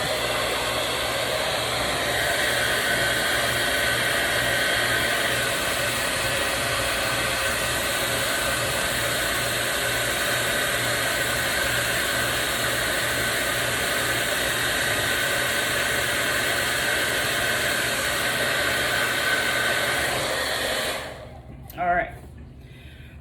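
Hair dryer blowing to dry paint on a faux pallet craft design, a loud steady whooshing roar held close for about twenty seconds before switching off.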